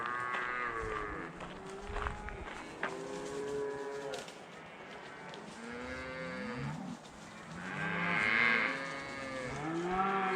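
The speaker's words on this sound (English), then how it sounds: "Not sure if you can hear the moos, the bawling." Cattle mooing and bawling in pens at a campsite about 200 yards away, a run of long drawn-out moos from several animals that overlap and rise in pitch, fairly faint and distant with no voices.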